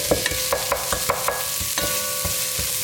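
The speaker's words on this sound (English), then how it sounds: "Cook the garlic until fragrant." Frozen garlic fries in a pan, a soft sizzle under a run of light clinking stirs from a utensil against the pan, close up and without speech.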